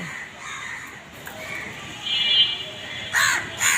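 A crow caws several times nearby, with harsh calls growing louder toward the end, over a faint outdoor background.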